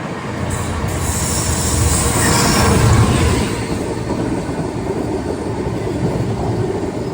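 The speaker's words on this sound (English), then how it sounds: "And up next, here comes a Freightliner" A Freightliner freight train passes through Barking station in London with a loud, continuous rumble of wagons, rattling wheels and metallic squeal, swelling as it nears and then holding steady.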